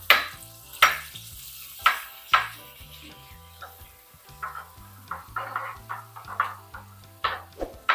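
Curry leaves hit hot oil in a pan while a squid curry is cooked, giving a crackling sizzle with sharp spoon-and-pan clatters and stirring scrapes at an uneven rhythm, close by.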